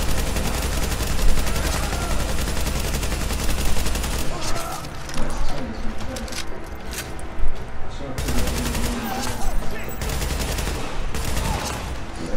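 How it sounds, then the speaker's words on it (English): Bursts of automatic gunfire from The Division at the Lincoln Tunnel checkpoint, rattling in rapid volleys almost without pause, loud and close, with someone talking over parts of it. "I'm just gonna continue shooting."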